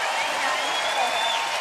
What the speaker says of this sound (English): And the crowd loving that.